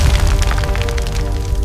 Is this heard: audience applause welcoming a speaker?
no